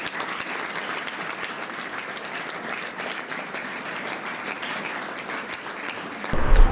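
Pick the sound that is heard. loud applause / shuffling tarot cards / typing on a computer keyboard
loud applause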